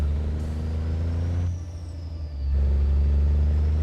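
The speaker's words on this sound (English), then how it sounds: "Like the low rumble of the engine, I've been missing that the whole time." A heavy truck engine rumbles low and steady in a truck-driving video game, with a brief hiss like an air brake and a dip in level before the drone swells back loudly.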